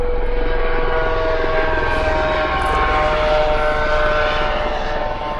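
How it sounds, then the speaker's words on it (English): A red helicopter passes overhead with a loud, continuous engine roar and a steady droning whine, heard without any talking. "Very noisy red helicopter."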